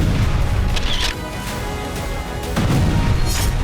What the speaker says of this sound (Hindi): तभी उसके पीछे वाली एक इमारत पर धमाका हुआ।